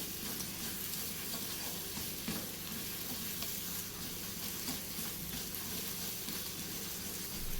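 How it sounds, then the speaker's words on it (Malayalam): Masala paste with crushed kasuri methi sautés and gets stirred in a pan for capsicum masala, a steady soft sizzle running throughout with faint scraping under it, no talking. "ഇതും കൂടെ ഒന്ന് ഇളക്കി മിക്സ് ചെയ്യാം."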